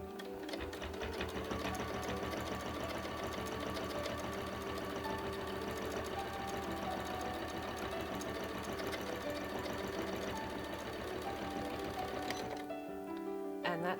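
A sewing machine stitches a straight quarter-inch quilting line along a fabric quilt, running as a steady, continuous rapid whir for about twelve seconds before stopping abruptly near the end.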